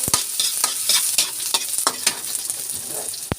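Onion sautéing in a hot pan for a stir-fried pechay and misua dish, giving a steady close sizzle with repeated scraping stirs of a utensil and a sharp clank near the end.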